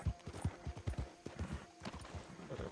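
Horse hooves clip-clop rapidly at a gallop in a cowboy-themed video game, a steady rhythmic pounding of hoofbeats close by with a brief whinny-like tone mixed in.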